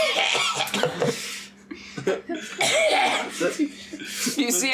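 A voice imitates a halfling's coughing after a drinking contest during a tabletop roleplaying game, with several harsh coughs mixed with laughter and talk from nearby players.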